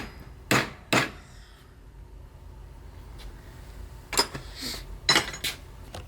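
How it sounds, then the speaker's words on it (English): Metal hammer blows on a bushing driver knocking a split bushing out of a Ford row-crop tractor's wide front axle: a few sharp, ringing strikes in two spaced clusters, close up with quiet pauses between. "If not, I'll just drive it out with the bushing driver."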